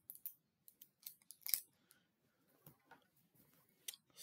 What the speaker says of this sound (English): Get this tape off of his hand.